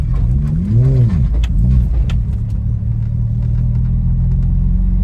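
A Lexus IS200 drifting on an oval track at a raceway circuit, its engine droning loud and close, pitch rising and falling in sweeping revs before settling into a steady roar.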